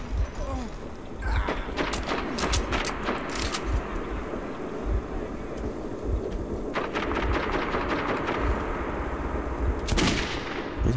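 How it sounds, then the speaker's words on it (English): Gunfire from the shooter game Metro 2033 rings out in several loud bursts and rapid volleys, one cluster early and another later, over a constant rumbling, noisy game background. "Shooting."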